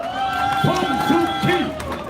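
Crowd applause at an outdoor campaign rally for a local election, steady clapping under a loud sustained tone and a shouting voice over a PA.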